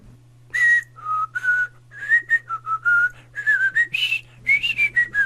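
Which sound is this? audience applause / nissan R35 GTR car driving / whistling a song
whistling a song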